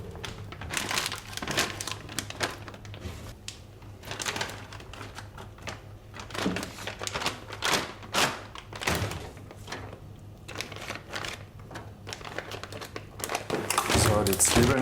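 Plastic bags crinkling and rustling repeatedly as onions are packed by hand in a kitchen during a large batch of meat preparation, with a person talking over the sharp bursts of crackling.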